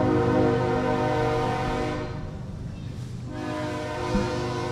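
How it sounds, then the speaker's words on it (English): A loud train rumbles past close by a dirt track racing event, its horn blaring in a sustained chord that briefly fades before sounding again. "I know that's a loud train, isn't it?"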